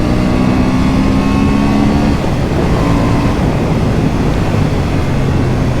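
A Honda Hornet 750 motorcycle engine pulls hard at full throttle, a loud steady roar that rises in pitch and then shifts after a brief dip, continuous throughout with heavy wind rush and no talk.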